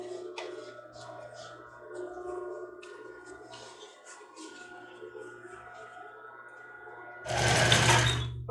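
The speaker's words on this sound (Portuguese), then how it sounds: "Então a gente agora vai passar uma costura" After a long stretch of faint, indistinct voices and near quiet, a sewing machine bursts into a loud, steady run for about a second, stitching a seam on a crop top.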